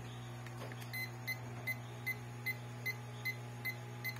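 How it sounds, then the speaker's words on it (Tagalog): A multimeter in continuity mode repeats a short high buzzer beep about every 0.4 seconds over a steady electrical hum, clear and close. "continuity mode or buzzer"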